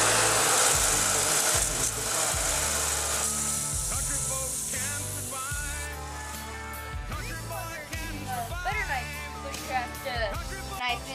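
Sandpaper rasps back and forth over a wooden bushcraft butter knife in steady rhythmic strokes, close and clear, with someone talking under the scraping.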